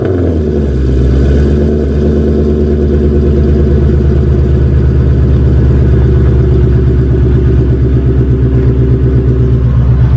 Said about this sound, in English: So let's get the almighty cold start.